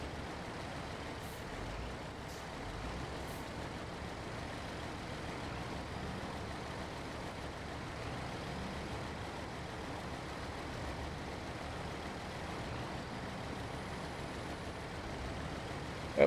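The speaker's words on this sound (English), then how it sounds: "This rocky mud is a little bit difficult with this truck and a double load of logs." A truck hauling a double load of logs grinds slowly through rocky mud, a low steady engine drone with faint rumbling, heard at a distance and fairly quiet throughout.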